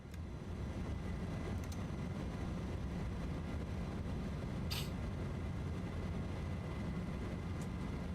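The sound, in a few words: MD-11 airliner taking off in a flight simulator video game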